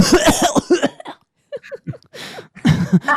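A voice imitates coughing in a few short bursts, with brief pauses between them, close and fairly loud.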